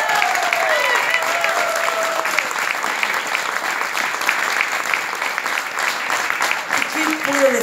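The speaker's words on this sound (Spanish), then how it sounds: "Un fuerte aplauso para Horacio San Jorge." Steady audience applause fills the whole stretch for a performer at a variety show, loud and dense, with a voice briefly heard over the clapping near the end.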